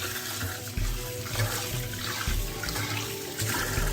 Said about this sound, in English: And you will need to wash your rice.